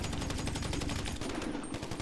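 Shotgun fire in GTA 5 Online, a rapid run of sharp repeated blasts that come quickly one after another, fairly quiet overall and heard without talk.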